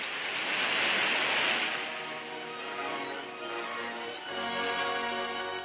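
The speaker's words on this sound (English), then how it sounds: "as for the first time the spillways begin to flow" Water pouring over the dam spillways on the Columbia River makes a broad, continuous roar. The rushing noise swells in the first half, eases, then rises again, with nothing else heard.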